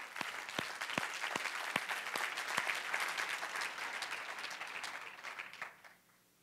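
A church congregation applauding for grace given to a woman: many hands clap steadily at a distance, sharp individual claps poking through the wash, gradually tapering off and ending in quiet.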